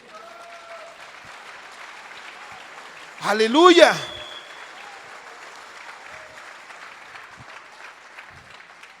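Church congregation applauding during a Spanish-language sermon, a short burst of clapping rising briefly over the preacher's ongoing voice before fading back under talk.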